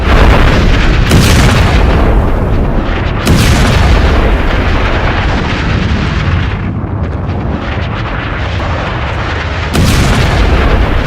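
A bridge in Tehran, Iran, blown up in wartime news footage, heard as loud, continuous booming rumble with sharp blasts breaking in near 1, 3 and 10 seconds, dense and close throughout, with no talk.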